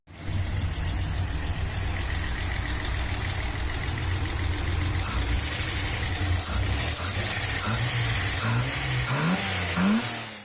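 A carbureted Japanese car engine runs steadily with a rough, throaty idle, then revs up in several rising pulls toward the end.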